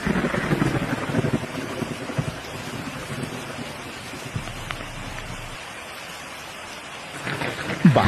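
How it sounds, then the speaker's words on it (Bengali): Heavy rain pours steadily outside while low thunder rumbles roll underneath, swelling louder toward the end, with no voices. "বাইরে কিভাবে বিদ্যুৎ চমকাচ্ছে, মেঘের দল গুড় করে ডাকছে।"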